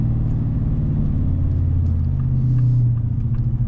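A 2024 Ford 6.7 Powerstroke diesel truck with aftermarket tune, driving with the exhaust brake engaged, giving a loud, steady low rumble and drone from close by that swells briefly before easing off, with no talking.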